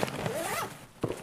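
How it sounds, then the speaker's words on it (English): Footsteps in the video game Escape From Tarkov, a few soft close steps with a brief scuffing movement between them, faint and alone. "That's a lot of steps."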